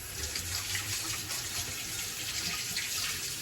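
A kitchen tap runs steadily into a sink as hands are wetted while making pizza dough, a continuous close gush of water with no talk.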